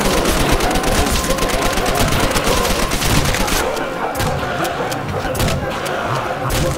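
MP40 submachine gun fire in Call of Duty: World at War plays as dense, rapid bursts of close automatic shots. The fire is heaviest early, then breaks into scattered shots, with game noise behind it.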